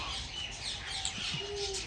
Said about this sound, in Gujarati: અહીં છે ગાઈસ ચકલિયો